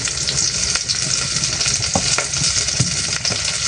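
Onions frying in a pan, a loud, dense crackling sizzle close by with repeated stirring scrapes and taps of a spatula, continuous throughout and without talk.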